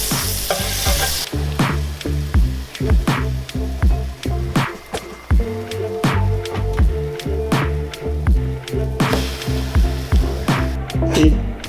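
French toast frying in butter gives a steady close sizzle while a spatula scrapes and stirs in a regular rhythm. Brief louder hissing bursts come at the start and near the end.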